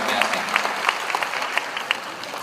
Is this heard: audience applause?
yes